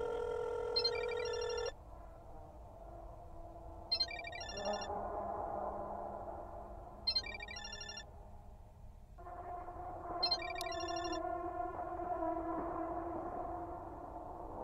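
A phone ringtone plays in the video game Parasocial, bursts of a bright electronic trilling tone repeating every few seconds over a steady low background hum, fairly faint.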